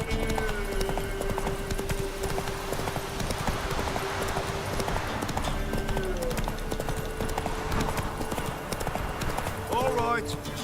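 Hooves of the horse Roach clop rhythmically at a gallop in The Witcher 3, steady and moderately close beneath game music and a spoken voice.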